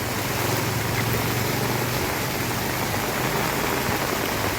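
Heavy rain pours down continuously on a flooded village street facing a temple, a dense, loud, unbroken hiss of water with no pauses.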